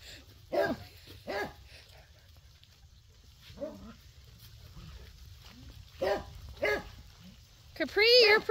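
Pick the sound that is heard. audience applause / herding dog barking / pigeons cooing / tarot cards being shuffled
herding dog barking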